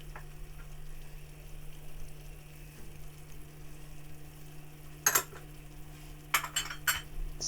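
Mango chilli chicken in British Indian restaurant style being stirred through in a pan as it simmers, a quiet steady hum under faint sizzling, with a few sharp scrapes and clinks of the utensil against the pan.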